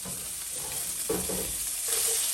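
Beef tips browning in a pan for gravy, with a steady soft sizzle and a few louder stirring scrapes, heard up close with no talking.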